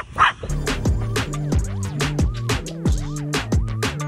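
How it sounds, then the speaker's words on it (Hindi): A dog barks repeatedly while playing, short sharp yelps and barks in a quick uneven rhythm, close and fairly loud, with a scratchy scuffle at the start. "वो इस पे थोड़ा थोड़ा भौंक रहा था"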